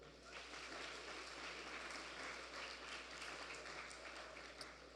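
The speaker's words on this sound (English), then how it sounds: "Let me hear a round of applause for that." A crowd claps steadily and densely throughout at a CARICOM Energy Month event, a continuous wash of applause with scattered louder claps, no voices standing out.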